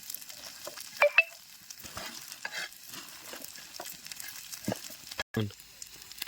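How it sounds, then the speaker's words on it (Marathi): Dried fish (sukat) frying in a pan, a faint steady sizzle with occasional stirring scrapes and clinks, close by. "आता सुकट तळून आधी घेतली"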